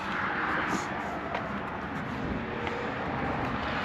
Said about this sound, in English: And you're gonna hear the cars behind me